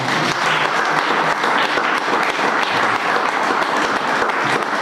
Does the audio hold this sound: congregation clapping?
yes